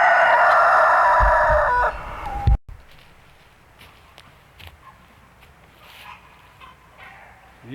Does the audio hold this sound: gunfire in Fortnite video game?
no